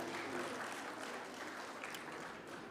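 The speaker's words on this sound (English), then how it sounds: "A huge round of applause for our pond man, Mr. Ramveer Tanwar." A conference audience applauds a guest honoured on stage at a sustainability and design event, a continuous wash of clapping heard faint and distant.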